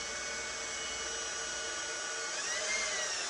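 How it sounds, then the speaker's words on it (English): A steady, high-pitched power drill whine runs continuously, grinding into metal at close range with no pauses. "So we're gonna drill this one."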